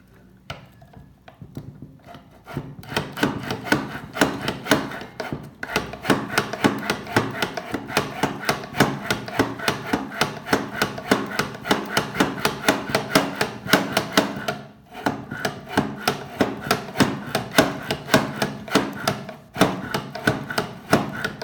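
Reeds being cut with the blade of a Rhodes elliptical profiler, a steady rapid series of short woody scraping strokes, close and even, starting after a quiet couple of seconds with a brief pause near the middle.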